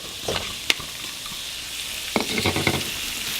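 Broccoli goes into a hot pan and sizzles loudly and steadily at close range, with a few clattering stirs and knocks of the pan breaking through the hiss.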